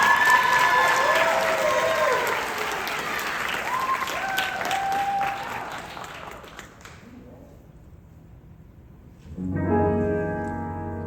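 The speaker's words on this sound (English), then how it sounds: "Give her another round of applause." An audience at a BroadwayCon 2022 talent showcase claps for a singer performing a Funny Girl number. The applause is loud and dense, with a voice over it, then it fades out and music begins.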